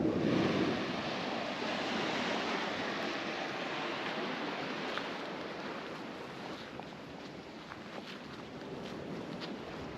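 Sea waves break on a beach on the Peloponnese coast of Greece, a continuous broad roar of surf mixed with gusting wind noise, fairly loud and close at first and easing slightly, with no one speaking.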